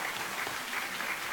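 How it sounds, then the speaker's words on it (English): Steady, dense audience clapping at a town hall meeting, a continuous even wash of applause from a crowd at moderate distance with no voices over it. "You can clap on that."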